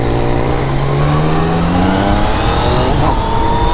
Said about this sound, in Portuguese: Muito forte essa moto, mano.